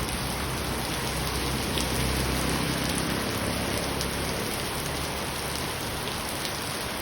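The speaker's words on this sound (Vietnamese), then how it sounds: "Mưa to mưa to mưa to." Heavy rain pours down in a dense, steady hiss, close and loud, with no letup throughout.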